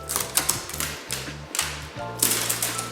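Strings of Christmas lights torn off the body of a BMW F10 M5 produce a rapid series of sharp ripping clicks and snaps in quick bursts, close and fairly loud, with no talking.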